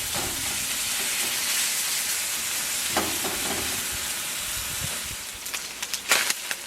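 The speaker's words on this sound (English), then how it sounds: "The wok is still very hot, and so I'm going to just cook the chicken" Steady loud sizzling and crackling of chicken frying in a hot wok, with occasional scraping and stirring clatter toward the end.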